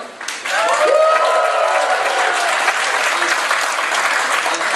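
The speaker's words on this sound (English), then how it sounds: "could we have a big cheer for her as well?" Audience at a Chinese student association New Year gala cheering and applauding, with rising whoops and shouts at the start over loud, steady clapping that continues for several seconds.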